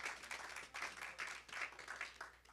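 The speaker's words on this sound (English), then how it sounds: "So that's a hand clap." Faint audience hand clapping at a graduation ceremony, steady rhythmic claps from a distance.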